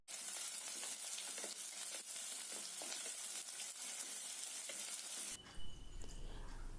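Mustard seeds, cut dried chillies and shallots sizzle and crackle steadily in hot coconut oil in a fish curry pan, a loud, dense frying hiss with small pops, with no talking.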